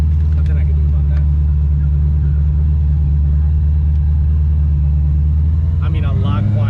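2014 Shelby GT500 with a Magnaflow Street series exhaust and new sprag, a loud, steady deep exhaust drone heard from inside while cruising, rising slightly toward the end, with a voice talking over it.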